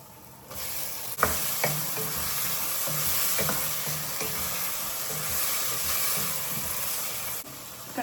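Onions and tomatoes frying in a pan for egg chutney, a loud steady hiss that begins abruptly, with a spatula scraping and stirring at intervals through it, close and unbroken by speech, then cutting off near the end.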